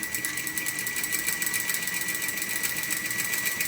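A sewing machine stitches fabric in one steady, even whir that runs unbroken throughout, close and fairly quiet, with no talking.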